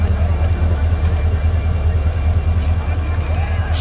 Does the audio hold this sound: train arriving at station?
yes